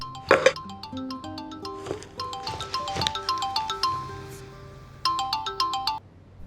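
A melodic electronic phone ringtone chimes close and clear, a bright tinkling tune of short notes that repeats.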